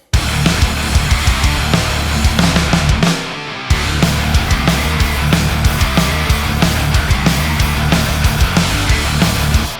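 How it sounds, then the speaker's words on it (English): A dense, loud rock band mix with a driving drum beat and a natural, unsampled snare drum cracking steadily through it, briefly dropping out before resuming. "This is just the natural snare drum"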